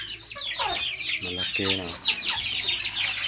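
Pet chickens in a damaged coop cluck and squawk in short bursts close by, while someone speaks over them.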